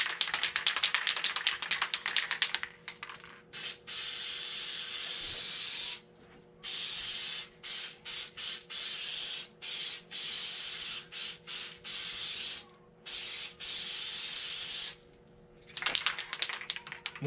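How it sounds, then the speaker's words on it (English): An aerosol can of spray adhesive hisses in a long spray, then a series of short bursts with brief pauses, ending with another longer spray, close by, while building insulated blackout window panels for a van. "Gonna spray it with spray glue."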